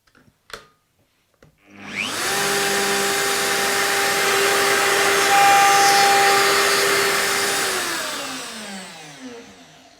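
Bosch power drill boring shelf holes into a bathroom tallboy cabinet: after a short click, a single loud, close whine rises, holds steady for about six seconds, then spins down.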